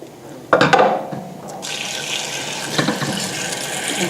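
A kitchen tap runs water over potatoes being rinsed in a sink, a steady close hiss of flowing water broken by a few louder splashes as the potatoes are handled.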